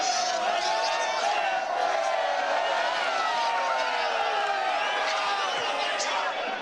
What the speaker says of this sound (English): the crowd have just noticed us coming back here again